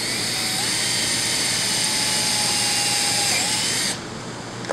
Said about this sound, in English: When you drill a hole to put the jigsaw blade in